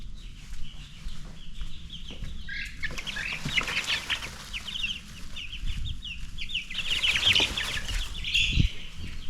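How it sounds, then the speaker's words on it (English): Baby chickens in a barn brooder peep and chirp busily up close, with a steady flutter of shrill calls, soft scuffling and occasional light thumps over a low background hum. "we're going to check on the baby chickens real quick"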